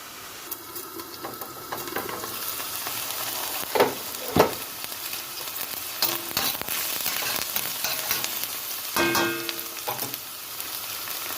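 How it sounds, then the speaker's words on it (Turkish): Steady sizzling of onion sautéing in olive oil, with occasional stirring clatters and a few louder knocks; no talking. "Şimdi yağda iyice soteleyeceğim."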